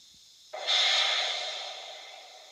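After half a second of near quiet, a sudden loud burst of hissing steam release from a model railway sound app on a phone sprays out and slowly tapers away over two seconds.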